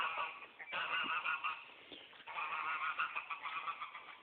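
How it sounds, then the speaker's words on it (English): Several geese honk nearly nonstop in overlapping calls, moderately close and loud, with no talking. "I'm about to throw something at those damn geese."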